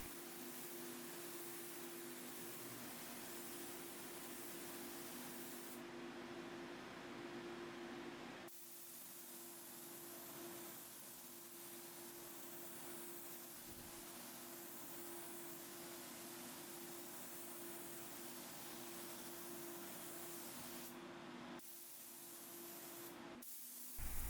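Spray gun with a 1.3 tip laying down pigmented Hague Blue lacquer thinned with lacquer thinner and retarder on furniture end tables, a steady close hiss running nearly throughout with short breaks between passes.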